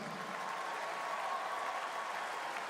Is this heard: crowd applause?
yes